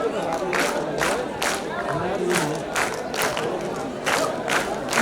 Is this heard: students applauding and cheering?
yes